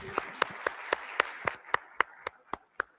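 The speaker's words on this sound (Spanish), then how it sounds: "Un aplauso." A conference audience claps in a steady, evenly spaced rhythm of about a dozen sharp claps, with a denser wash of applause behind the first half that then drops away.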